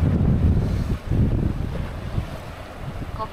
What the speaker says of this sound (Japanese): ここ結構風の音拾ってる。